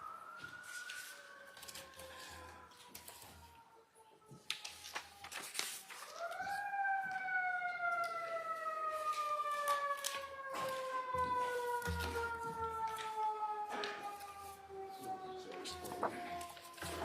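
A wailing siren rises and slowly falls in pitch, fairly faint and distant, lingering for many seconds while a person keeps talking underneath during a courtroom murder trial.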